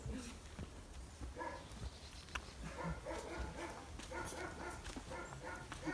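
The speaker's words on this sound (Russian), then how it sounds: "Так вот играет собака." A dog yips and whimpers in short bursts while playing nearby, with soft rustling and movement underneath.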